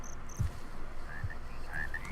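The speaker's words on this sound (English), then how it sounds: "It's cool though, you can hear frogs." Frogs croak in TerraFirmaCraft, a Minecraft mod, near a large underground cavern. Faint, scattered chirpy croaks sound over a low, steady ambient hum.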